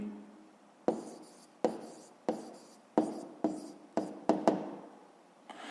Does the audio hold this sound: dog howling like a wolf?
no